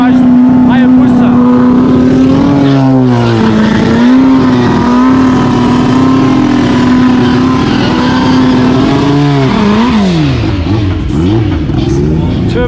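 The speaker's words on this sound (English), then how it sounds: "So if you don't know, that is a turbocharged Hayabusa." A turbocharged Suzuki Hayabusa motorcycle drag racing roars loudly and continuously, its engine note rising and dipping through gear changes, with crowd noise and a voice underneath.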